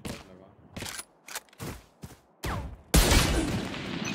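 Gunshots ring out in Valorant: several sharp separate shots in quick bursts, then a louder sustained volley near the end, with a voice talking between them.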